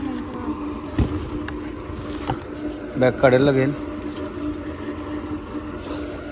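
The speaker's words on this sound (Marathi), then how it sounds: "तर चालू आहे आता पंप हवा भरण्यासाठी." A portable electric air pump inflates a car tyre at the start of a road trip, giving a steady droning hum with a brief louder burst midway, under people talking.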